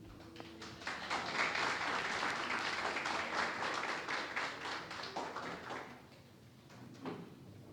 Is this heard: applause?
yes